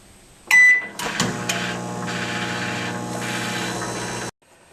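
A microwave oven heats water on its high setting, giving a steady electric hum for about four seconds after a brief start click, then cutting off abruptly into quiet.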